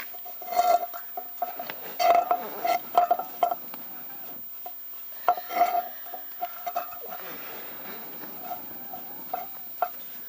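An oiled napkin rubs and scrapes around the inside of a Dutch oven pan on a canoe trip, giving irregular squeaky bursts of wiping with short pauses between strokes.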